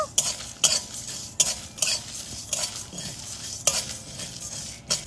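Four dried red chillies are stirred and heated in a pan, with a sharp scraping stroke of the spoon roughly every half-second to second over a soft underlying sizzle, close and without talk.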